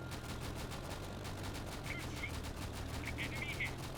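Aircraft cannon and machine gun fire rattles in fast, continuous bursts in the World War II video game Easy Red 2 during the Cassino campaign, steady and fairly loud over a low engine drone.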